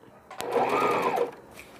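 A sewing machine stitches piping onto a hanging baby laundry bag: a short burst of close whirring that rises and falls over about a second, after a small click.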